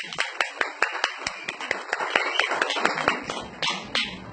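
A small audience claps at a gathering, sharp distinct hand claps that start sparse and quicken into a busier, overlapping patter, fairly quiet overall.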